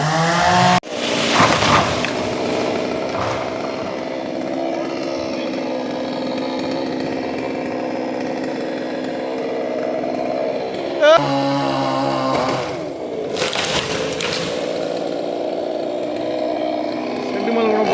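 A chainsaw cutting up a tree for a tree-cutting service in Tambaram drones steadily and loudly, its engine pitch shifting as the blade bites, while people talk over the noise.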